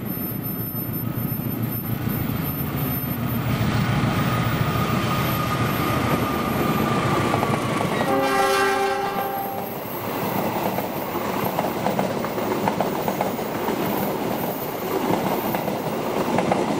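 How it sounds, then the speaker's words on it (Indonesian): Argo Cirebon passenger train of all executive-class coaches rolls past at Bekasi Timur with a loud, continuous rumble and rattle, and a long horn blast sounds near the middle of the pass. "Kereta api Argo Cirebon"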